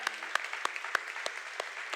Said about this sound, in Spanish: Un aplauso a los chicos de la banda que lo hacen increíble